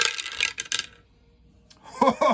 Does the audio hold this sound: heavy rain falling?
no